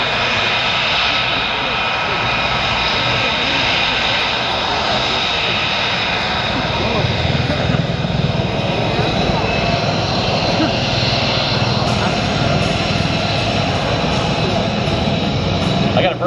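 A Lockheed Martin F-35B stealth fighter jet at the 2017 MCAS Miramar air show, its steady loud engine roar holding throughout while an announcer talks over it.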